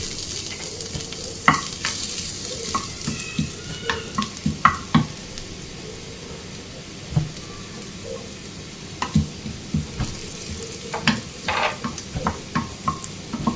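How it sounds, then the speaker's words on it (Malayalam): Coconut pieces frying in ghee in a small pan, a steady low sizzle broken by repeated scraping stirs and clinks, close and fairly quiet, with no talk. "നമുക്ക് ഈ തേങ്ങാക്കൊത്തൊന്ന് വറുത്തെടുക്കാം"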